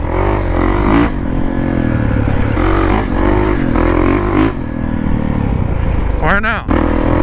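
A side-by-side off-road vehicle rumbles loudly and steadily along a trail, its engine droning nonstop with slight shifts in pitch, near and close-up, with a brief scraping rattle toward the end.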